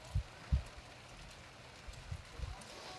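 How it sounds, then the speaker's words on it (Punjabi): Light rain falls with a soft, steady patter, broken by a few dull low thumps nearby. "ਥੋੜਾ ਥੋੜਾ ਮੀਂਹ ਆਉਣ ਡਿਆ ਵਾ"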